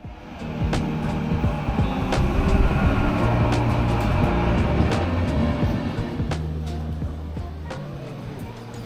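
A locomotive-hauled Bulgarian InterCity train, pulled by a Siemens Smartron locomotive, rumbles into a station with low engine drone and rail noise, loud and continuous, with brief high squeals and clanks as it arrives.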